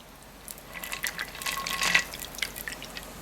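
A cocktail pours from an insulated shaker into a glass, a soft, close trickle with light splashing and dripping that builds briefly and then tapers off.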